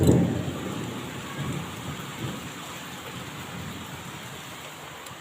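Steady rain falls with a low thunder rumble underneath, heard from indoors by a window, a continuous even hiss with a slightly louder burst at the start and no voices.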